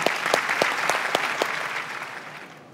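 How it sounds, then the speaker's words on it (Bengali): A studio audience on a family reality game show claps for an uncle in a brisk burst of applause that starts strong and tapers off over a few seconds. "আঙ্কেলের জন্য একটা জোরে করতালি হবে"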